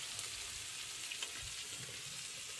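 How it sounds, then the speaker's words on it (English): Sausage browns quietly in a pan, a faint, even frying crackle with occasional soft stirring, heard up close with no voices. "I'm gonna brown that sausage and break it up a little bit"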